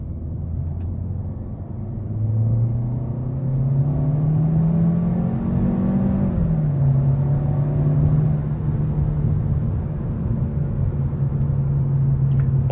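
A 2020 Hyundai Sonata's engine hums steadily from inside the car while driving, with the drone rising as it accelerates and holding high revs, over constant road rumble.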